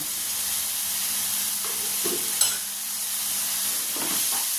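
Turmeric, garam masala and salt stirred through hot oil in a frying pan, with a steady soft sizzle and a few scraping strokes of the spoon and no one talking.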